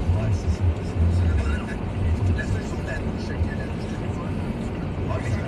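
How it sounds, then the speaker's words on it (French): Road traffic flows past on a snowy road while snow clearing goes on nearby, heard from inside a moving vehicle as a loud, steady low rumble of engines and tires with faint higher noises scattered through. "il y a un bon petit flot de circulation en avant de moi"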